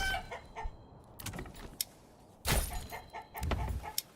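Chickens cluck around upgraded coops in the medieval city-building game Manor Lords, heard as short scattered bursts over a quiet ambient bed, with a louder cluster near the middle and another near the end.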